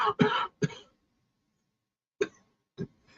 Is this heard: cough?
yes